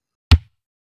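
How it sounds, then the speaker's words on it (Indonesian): A single kick drum hit from a real drum kit, short and punchy with a deep low thump and a quick decay, heard alone in a drum tutorial for a song. "Kemudian ketuk kick"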